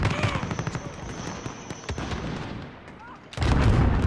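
Video game gunfire rings out in sharp cracks during a multiplayer match, a few distinct shots followed by a loud burst near the end, with players talking throughout.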